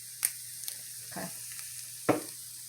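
Spaghetti sauce with garlic powder and Italian seasoning, stirred as it fries in a pan for baked spaghetti: a few sharp utensil scrapes and clinks over a quiet, low sizzle and a steady hum, with no talking.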